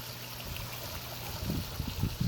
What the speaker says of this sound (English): So the waterfall starts, and also the lights.